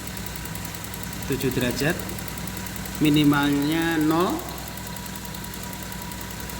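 A Toyota Soluna car engine idles steadily at about 625 rpm, a constant low hum running throughout while someone talks over it.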